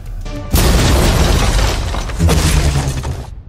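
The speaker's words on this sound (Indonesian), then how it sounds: "tiba-tiba sebuah ledakan terjadi" In a film, a sudden, heavy explosion booms as people step out of an elevator, then a loud roar of blast and debris rumbles on for a few seconds, with a second surge before fading.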